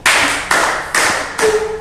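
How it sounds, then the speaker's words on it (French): Audience clapping in slow unison, four loud, full claps about half a second apart, each decaying with a short ring. "Applaudissez encore pour nous"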